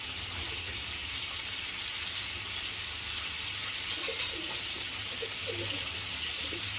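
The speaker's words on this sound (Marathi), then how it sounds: "आता एका साईडने एक मिनटं आपण फ्राय करूया" Pomfret fish frying on one side on a hot tawa, giving a steady, even sizzle with faint crackles that holds unchanged throughout.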